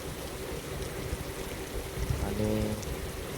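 Heavy rain mixed with hailstones falling in rural Maharashtra, a dense steady hiss with scattered harder patters and a faint tonal hum partway through.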